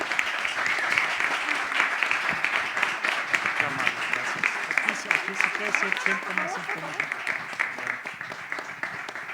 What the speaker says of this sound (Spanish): si me acompañan a aplaudirle por un brillante estudio